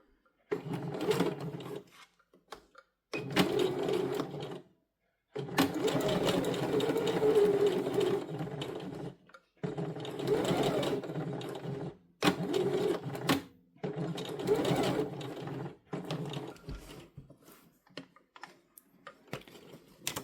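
Sewing machine stitching pieces of fabric for a lined drawstring pouch, close rapid mechanical whirring in repeated runs of a few seconds with brief stops between.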